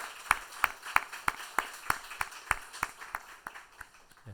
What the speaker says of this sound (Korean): 따뜻한 박수로 축복하겠습니다.